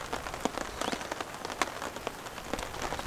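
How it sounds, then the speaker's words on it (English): Light rain patters on a tent and tarp during a camping trip, a dense, steady crackle of drops with occasional louder individual hits, heard close and all around. "Camping in the rain, everyone."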